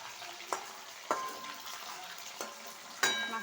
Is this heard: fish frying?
yes